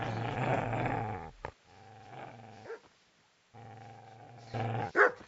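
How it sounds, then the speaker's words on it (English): A dog growls low and steady, breaks into a couple of sharp barks, then growls again before a final loud bark, close and alone with no talking. "Get away, you mutt!"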